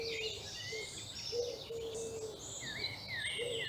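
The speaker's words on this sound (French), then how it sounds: "dans cet enregistrement, les oiseaux qu'on entend." Several birds sing outdoors in a faint, distant chorus, with overlapping chirps, whistles and short trilled phrases continuing steadily over soft background hiss.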